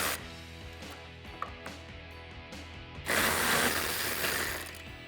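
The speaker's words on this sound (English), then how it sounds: "Now repeat that process with an 18 millimeter socket to remove the larger bolt" Ratchet fitted with an 18 mm socket clicking steadily as it backs out a front bumper support bolt on a 2019-2020 Chevrolet Silverado 1500, with a louder, noisier burst of mechanical rasping near the end.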